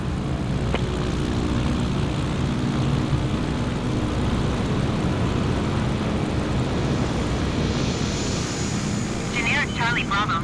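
A Cub Crafters light aircraft comes in to land, its propeller engine droning loudly and steadily throughout, with radio chatter and talk over the constant engine noise.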